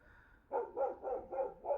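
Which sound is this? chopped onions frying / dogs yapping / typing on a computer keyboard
dogs yapping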